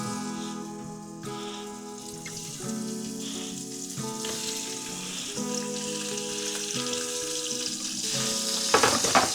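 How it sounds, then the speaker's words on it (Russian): Chicken pieces frying in heated oil in a pan, a steady crackling sizzle close by, growing slightly louder toward the end, with music playing underneath. "Пока у нас курица немножко жарится"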